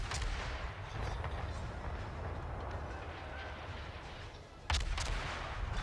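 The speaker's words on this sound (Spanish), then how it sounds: "Y ahí se va uniendo el otro cañón a los disparos." Naval cannons fire from a ship in World of Warships, booming over a continuous rumbling engine and sea drone, with one sharp loud blast standing out near the end; no talk.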